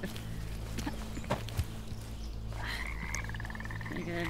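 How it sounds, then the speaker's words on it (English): Croaking from a frog in the folktale horror video game Bramble, a rapid pulsing call emerging over a dense, steady ambient game soundscape with low droning tones and scattered footstep-like thuds. "This is a frog right here."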